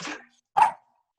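A dog gives two short, sharp barks separated by a brief silence, fairly close and clear, with no talking over them.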